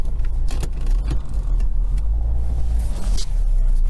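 Car driving on the road, a steady low rumble of engine and tyres from inside the cabin, close and continuous, with light jangling and rattling on top and no talking.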